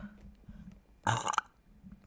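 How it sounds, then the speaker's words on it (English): A single loud burp around the middle of a quiet talk-show setting, with low background murmur before and after. "I was about to burp."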